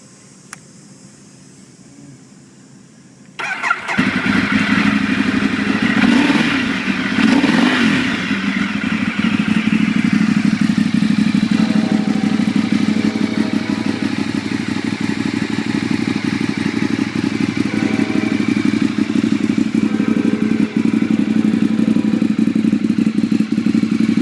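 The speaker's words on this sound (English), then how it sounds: "Give a quick start for it, and just let you hear the exhaust." An '08 Ducati 848 motorcycle is started after a few seconds of quiet, then settles into a loud, close idle with a pulsing exhaust note and a couple of quick throttle blips.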